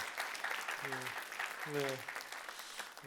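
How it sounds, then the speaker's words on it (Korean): Soft, steady clapping from a church young adults' worship congregation carries on under a voice, faint and distant throughout. "우리 박수로 한번 축복하고 환영했으면 좋겠습니다"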